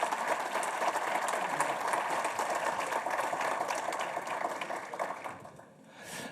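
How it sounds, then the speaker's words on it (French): Steady applause from a lecture audience greeting speaker Alain Juillet, a dense even wash of clapping that holds for several seconds and then fades out. "Je vous demande de l'applaudir bien fort."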